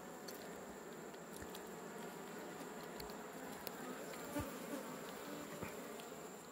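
Honeybees buzz steadily in a dense, continuous drone while a hive of red honey is harvested, with occasional faint taps and rustles underneath, fairly quiet and close.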